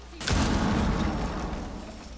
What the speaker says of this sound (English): Oh my god, there's just explosions for days.